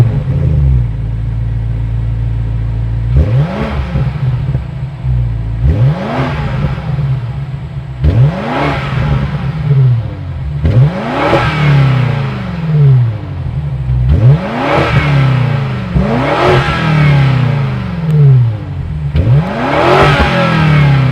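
A 2026 BMW M5's 4.4-liter twin-turbo V8 plug-in hybrid engine is blipped repeatedly, each loud rev rising sharply then falling back to a deep rumbling idle, close and powerful.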